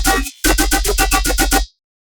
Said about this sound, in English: and the winner is the flanged bass